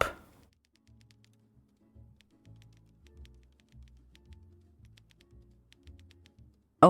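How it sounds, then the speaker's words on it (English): Soft typing clicks in the Who Did It detective puzzle game come in short irregular bursts, faint and close, alongside quiet low tones of background music. "Oh, there's like typing noises."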